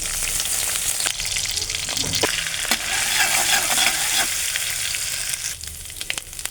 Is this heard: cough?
no